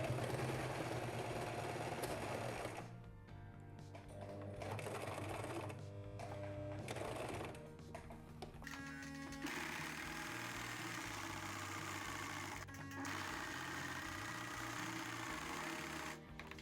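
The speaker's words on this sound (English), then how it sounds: "I'm going to just sew it with a straight stitch" A sewing machine runs a straight stitch along a strap for a concrete doorstop, humming in a steady close-up drone with brief stops and restarts and no talking.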